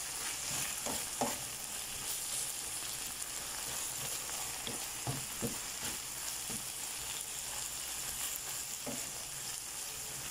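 Ampalaya (bitter gourd) sautéing in a home pan for ginisang ampalaya with tuna, a steady loud sizzle with scattered soft pops and light stirring scrapes throughout.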